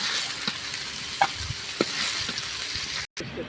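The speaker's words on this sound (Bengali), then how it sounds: "দেখুন আমি এই চিংড়ি মাছটা এর মধ্যে দিয়ে দিলাম সবার লাস্টে।" Shrimp frying in hot oil in a pan for mixed fried rice, a steady close sizzle with a few soft clicks and stirring scrapes, no talking.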